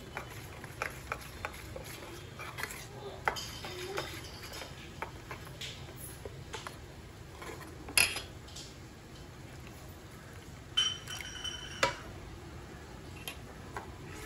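Milk being stirred into shahi paneer masala mix in a pan: soft, scattered clinks and scrapes of a spoon, quiet and close, with a few sharper knocks against the vessel.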